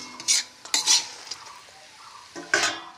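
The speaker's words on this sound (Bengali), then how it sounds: "তো ভাজিটা নামাই দিই" Spatula or spoon scraping and clinking in a pan as fried vegetable bhaji is lifted out, with three distinct bursts of metallic scraping separated by quieter pauses, close and fairly loud, no talk.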